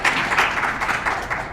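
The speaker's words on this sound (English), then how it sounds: "I would like to give a real in-place round of applause to each one of our panelists and to our moderator." Applause for panelists and a moderator at an international arbitration session comes as a brief, steady wash of clapping with a rough, continuous texture and no talk over it.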